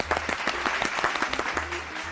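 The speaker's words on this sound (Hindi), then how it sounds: "तालियां।" A studio audience on a Pakistani talk show gives a short round of applause. Sharp individual claps ring out at a brisk, uneven pace for about two seconds over a low hum.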